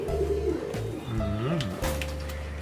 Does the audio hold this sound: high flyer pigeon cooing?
yes